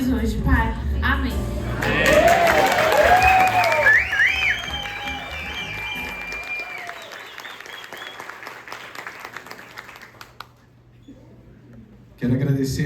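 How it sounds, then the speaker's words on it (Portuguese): A church congregation applauding during a Pastor's Day worship service, a sustained burst of clapping mixed with raised voices and calls, swelling early and then tapering off before a voice returns. "Vamos dar mais uma salva de palmas para eles?"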